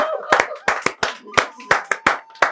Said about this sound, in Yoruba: Ẹ pàtẹ́wọ́ fún ẹ pàtẹ́wọ́.